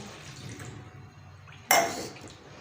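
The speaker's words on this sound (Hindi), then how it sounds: "अब हम इसमें इतना ही पानी ऐड करेंगे जितना पानी था हमारा" Water added to deseeded tamarind pulp in a pot: a quiet stretch, then a sudden splash of liquid that fades out over a moment.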